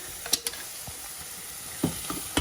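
Food frying in a pan with crispy bits browning, a low steady sizzle broken by a few soft clicks and stirring knocks, close by with no talking.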